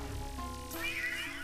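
Cat meowing in the video game Luigi's Mansion 3, a single faint rising-and-falling meow over steady game music and background noise.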